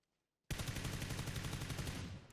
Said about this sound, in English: Oh, there's some shots over here.